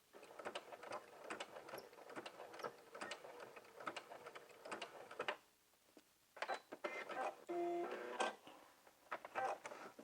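A sewing machine runs in bursts of rapid, rattling stitching through jumpsuit fabric, with a brief pause before it resumes for a final run and backstitch, close and fairly quiet.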